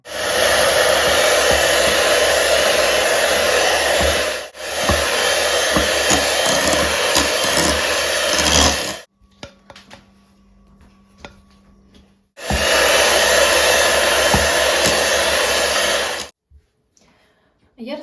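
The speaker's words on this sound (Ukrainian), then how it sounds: "Додаємо шоколад розтоплений і збиваємо." An electric mixer whips cream with melted chocolate for a chocolate birthday cake. Its motor runs in loud, steady bursts, two long runs with a short break between them, then silence, then a third run.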